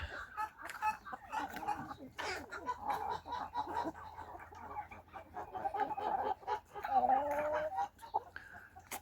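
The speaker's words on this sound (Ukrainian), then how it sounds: "Чубаті кури і півні" Crested chickens and roosters clucking in a farmyard with ducks nearby: a dense, continuous chorus of clucks and squawks from several birds at close to middle distance, one louder call near the end.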